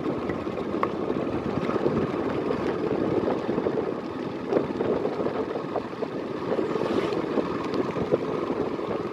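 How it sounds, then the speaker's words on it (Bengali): A Yamaha FZ 150 motorcycle on the road gives a steady engine drone mixed with wind rush, continuous and even for several seconds, with no talking. "আর এখন চালাচ্ছি FZ 150"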